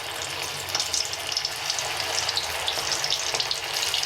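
Items dropped one at a time into very hot oil, giving a steady crackling hiss with small popping bursts that continues evenly throughout, close and fairly loud, with no talking.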